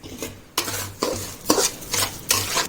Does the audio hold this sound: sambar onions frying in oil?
yes